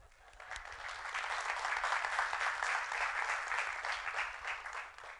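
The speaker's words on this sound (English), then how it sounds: "How about a round of applause for them?" An auditorium audience at a TEDx school event applauds its teacher organizers: a steady, even wash of clapping that swells in and sustains at moderate distance, fairly quiet overall.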